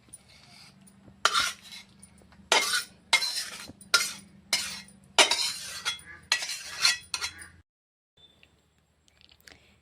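Fish curry, a puti fish jhal, being scraped and poured from a cooking pan into a serving dish: a string of about seven close metallic scraping clinks of utensil on cookware, then quiet.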